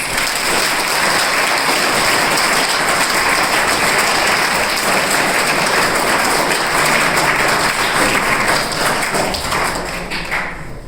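An audience at a school talk in Jhajjar claps hands in a dense, steady burst of applause that lasts throughout and is loud and close, easing slightly only at the very end.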